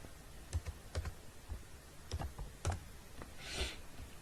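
Someone types a one-time passcode on a computer keyboard: a string of sharp, close key clicks arriving in short, uneven bursts, with a brief swishing noise near the end.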